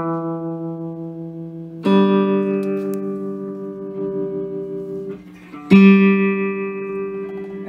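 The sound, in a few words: electric guitar played through restored 1964 Gibson Skylark amplifier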